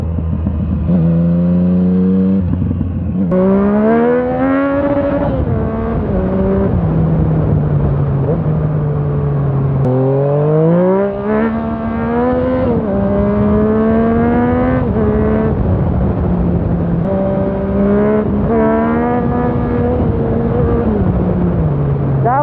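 A 2016 Yamaha MT-09 motorcycle engine revs and pulls hard while ridden, rising and falling pitch through gear changes, loud and close throughout with wind noise and occasional rider speech.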